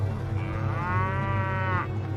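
A cow lets out a single drawn-out moo lasting about a second, clear and fairly near over a low farmyard background.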